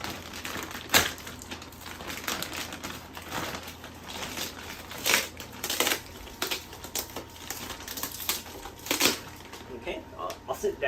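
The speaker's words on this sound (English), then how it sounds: "take it out of its packaging." An APC 1500VA UPS battery backup is pulled from crinkling plastic and cardboard packaging, with sharp rustles and crackles coming in bursts close by while a person talks intermittently.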